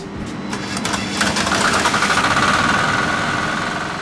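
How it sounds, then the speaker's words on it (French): A replica diesel car engine runs steadily at idle, a low rumbling drone with faint rhythmic knocking, picking up slightly partway through. "La preuve avec cette réplique de moteur diesel de voiture"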